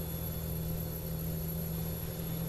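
A steady low engine-like drone from an airplane flying over in American Truck Simulator, constant and moderately loud with no talk.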